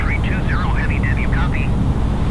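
Airbus A320 airliner in a flight simulator game, a loud, steady, low engine drone filling the whole moment, with a speaking voice over it.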